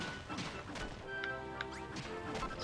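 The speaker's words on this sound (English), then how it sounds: "Smashing both wood." Wood is smashed in Dragon Quest Builders 2, giving repeated crunchy whacks and crashes over game music with a few chime-like tones.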